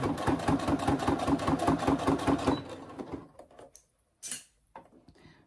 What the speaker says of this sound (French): je couds à 1 cm du bord